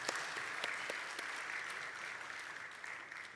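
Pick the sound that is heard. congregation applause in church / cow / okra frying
congregation applause in church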